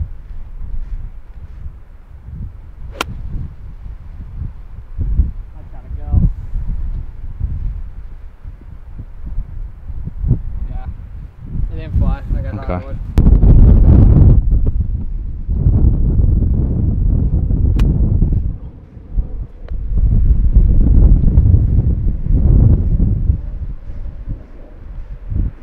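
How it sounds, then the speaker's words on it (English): Strong gusts of wind on the Chimera Golf Club course, roughly 40 mph, buffeting the microphone in heavy rumbling surges that rise and fall. "Wind's blowing hard now."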